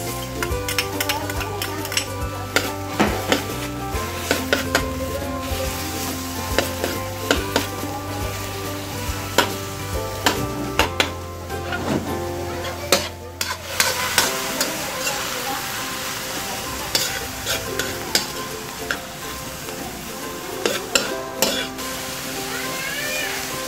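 Pork and onions sauté in a pan for Filipino pancit palabok, a steady sizzle broken by frequent sharp clinks and scrapes of a utensil stirring against the pan, with a low hum in the background.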